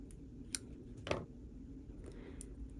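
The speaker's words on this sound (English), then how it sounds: "just going to cut this one in half" Scissors cut a paper card in half for a paper craft, giving a few faint, crisp snips spaced apart over a soft background hiss.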